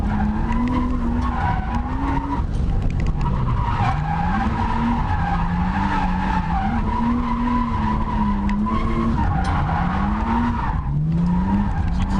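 Prolonged tire squeal from a turbo RB25 R32 Skyline drift car, the engine note swooping up and down as the skid carries on loud and close for about twelve seconds, with no voices.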